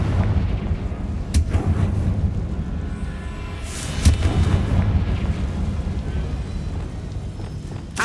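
A Confringo fire spell bursting in the game Hogwarts Legacy, a loud close booming explosion with a rumbling tail, followed by another sharp blast a few seconds later over a constant low roar.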